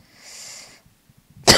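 A single short cough close to the mic, after a breathy exhale and a brief pause.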